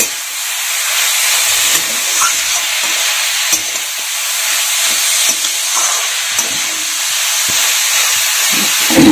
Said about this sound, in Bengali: এখন এটাকে ভালো করে মশলার সাথে মিশাই